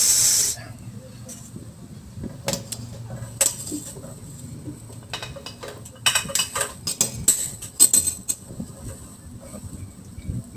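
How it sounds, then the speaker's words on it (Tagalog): A steady hiss of chicken tinola soup boiling in a pot, with intermittent clinks and bursts of steam, close by and moderately loud. "Ayan po, kumukulo na po."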